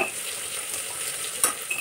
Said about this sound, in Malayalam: ആദ്യം സവാളയും വേപ്പിലയും കൂടെ ഇട്ട് കൊടുത്തത്, എന്നിട്ട് ഇഞ്ചിയും വെളുത്തുള്ളിയും പച്ചമുളകും കൂടെ ഇട്ട് കൊടുത്തു.